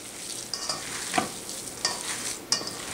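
Ground hamburger meat being hand-mixed with finely minced garlic, giving soft wet squelching and scraping textures with a few sharper clicks, close and fairly quiet with no talking.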